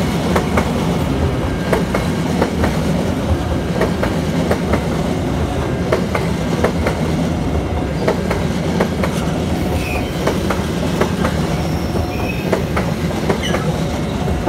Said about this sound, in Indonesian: kereta api lokal Garo Cibah Wan persiapan melintas di JPL